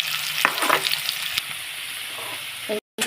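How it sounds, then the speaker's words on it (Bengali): Potatoes fry in a pan with a close, steady sizzle and a few stirring scrapes, then the sound cuts off abruptly near the end. "আলুগুলো দিয়ে দিলাম আলুগুলো আবার একটু ভাজা ভাজা হোক"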